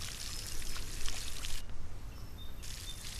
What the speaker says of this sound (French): on va arroser tout ça